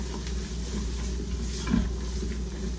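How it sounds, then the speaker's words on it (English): Steady, close sizzling of vegetables frying in a Ninja Foodi pot for Cuban-style lentils, a continuous hiss with a faint stir partway through. "Ooh, that sizzle. So good. Love that sound."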